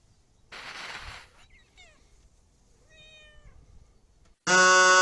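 A cat meows a few times with short, rising-and-falling cries at moderate volume in a quiet room, after a burst of rustling noise and before a sudden loud blast cuts in at the end.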